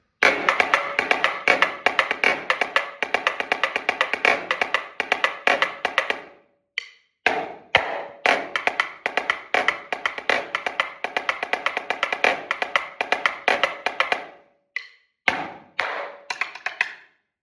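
Quick, steady rim knocks on a snare drum in a repeating rhythmic pattern, with two brief pauses, sharp and close up.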